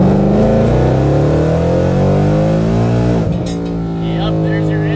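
Car on Mickey Thompson Street R drag tires on beadlock wheels launches hard, engine revving loudly with rising harmonics before a brief dip near the end; continuous and close.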